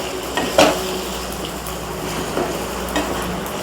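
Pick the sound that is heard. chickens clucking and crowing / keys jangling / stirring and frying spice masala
stirring and frying spice masala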